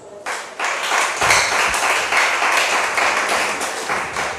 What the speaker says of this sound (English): Can I hear a clap here?